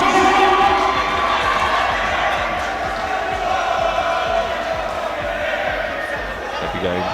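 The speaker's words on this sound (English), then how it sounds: "Crowd going wild for their man James Porter Smith" A loud arena crowd roars and cheers continuously after a knockout win at a PBL9 fight night with James Porter-Smith against Gavin Ellidge, a dense wall of shouting and applause with an announcer's voice running beneath it.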